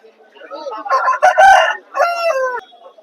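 A rooster at a Sunday rooster market in Vijayawada crows loudly and close by, a harsh drawn-out call broken into several rising and falling parts, with a brief gap before the final notes.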